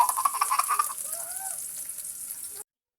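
Garlic, ginger and onion sizzling in a pan, a bright, steady frying hiss close by with faint stirring underneath, then an abrupt stop.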